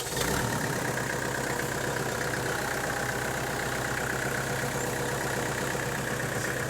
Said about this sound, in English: Probably ought to bring the tractor around here.